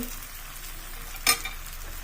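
Rice flour batter sizzles softly on a hot pan as it is poured for a dosa-style pancake, a steady faint frying hiss with one brief sharp clink partway through.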